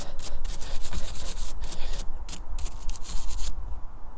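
A brush rigorously scrubs a bicycle derailleur with soap in close, loud rhythmic strokes, a rough bristly rubbing that pulses steadily and stops near the end.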